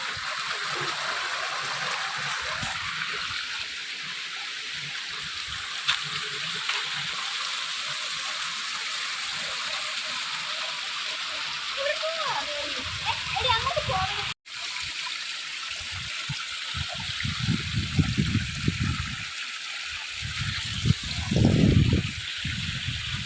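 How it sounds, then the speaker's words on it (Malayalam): Cold stream water rushes steadily between rocks in a deep forest in a close, continuous stream, with occasional low bumps and splashes toward the end. "ഈ പാറയുടെ ഇടയ്ക്കൂടെ വെള്ളം വരുന്നത്"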